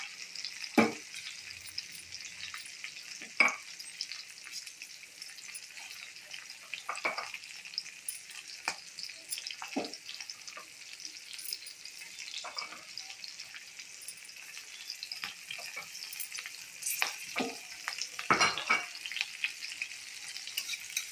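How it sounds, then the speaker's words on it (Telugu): Green chillies, urad dal and cumin seeds frying in hot oil, a soft continuous hiss and crackle with occasional scraping stirs spaced through, moderately quiet and with no talking. "ఇవి బాగా వేగాలి."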